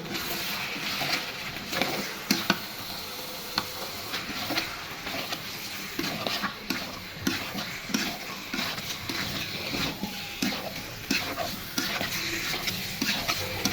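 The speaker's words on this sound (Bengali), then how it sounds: "এখন এই অবস্থাতে জিরার গুঁড়ি দিয়ে দিব। ভালো মতো কষিয়ে নিব।" Chicken stirred in a pot with cumin powder while cooking, a steady close scraping and stirring with soft sizzle and frequent spoon clacks against the pot, no voices.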